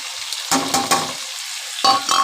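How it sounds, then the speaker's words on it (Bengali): Chopped onions dropped into hot oil with bay leaves, breaking into a loud sizzle with a few scraping stirs, fading and then flaring again near the end. "তিনটে ছোটো ছোটো পেঁয়াজ কুচি করে রেখেছি সেগুলো আমি দিয়ে দিচ্ছি এর সাথে"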